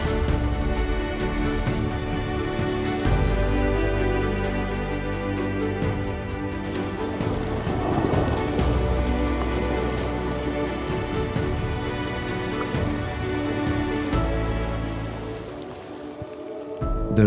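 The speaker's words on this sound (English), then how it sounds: "The rain came and it changed the atmosphere completely." Steady rain pours down in Scotland with a dense, hissing patter of drops, continuous and fairly loud throughout, with no voices.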